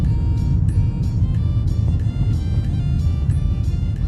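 Steady road traffic in Thailand, with a continuous low engine rumble from cars crawling through congestion, close and fairly loud throughout, with no talk over it.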